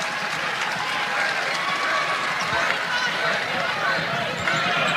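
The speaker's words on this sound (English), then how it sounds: "Jalen Brown getting applause as she heads to the bench" Arena crowd at a Michigan vs Michigan State women's college basketball game applauds a player heading to the bench, a dense, sustained wash of clapping and cheering that stays loud and even throughout.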